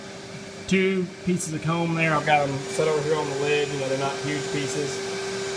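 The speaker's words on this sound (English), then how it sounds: "Well, I've got the vacuum running." A vacuum runs steadily through a honeybee removal from a house soffit in Kingwood, Texas, a constant mechanical whine and drone beneath someone talking throughout.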